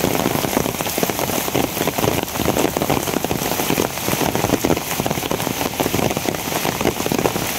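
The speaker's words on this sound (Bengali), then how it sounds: "একটু পরে পরেই এই হালকা একটু থামার পরে আপনার আবার শুরু হয় বৃষ্টি।" Steady rain falls during an intermittent shower, a dense, even patter of drops hitting surfaces nearby that stays consistent and fairly loud throughout, with no voices.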